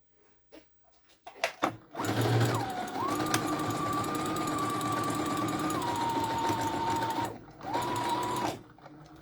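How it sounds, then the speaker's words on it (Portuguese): A sewing machine stitches a strap into fabric for a Christmas doll's apron, running in one long steady whir after a few light handling taps, with a brief pause and short restart near the end. "Volto na máquina e vou costurar esse pedacinho que eu abri agora"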